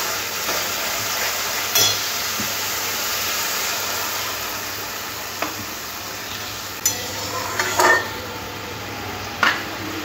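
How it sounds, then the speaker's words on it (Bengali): Water poured onto fried masala for a rohu fish curry, producing a steady close hiss and sizzle, with a few sharp clinks of a utensil against the pan and no speech. "এরপরে জল দিয়ে দেব।"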